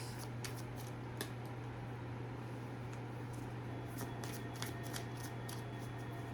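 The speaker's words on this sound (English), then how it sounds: "I'm just pulling some symbology cards" Symbology cards are shuffled and pulled with soft, quick flicking and riffling sounds close to the listener, over a steady low hum in a quiet room.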